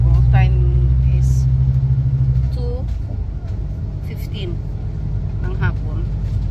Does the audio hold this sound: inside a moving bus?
yes